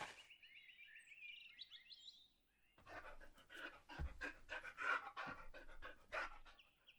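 A dog panting in the video game Pentiment, steady and close, taking up the second half after a stretch of soft chirping birdsong with no talk over it.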